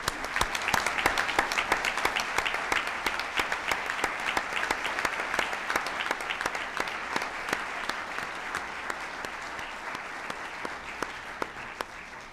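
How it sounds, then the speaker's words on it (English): An audience at a special city council meeting for the installation of officers claps steadily and fairly loudly for the whole stretch, the dense applause thinning only slightly near the end. "let's applaud for all these folks"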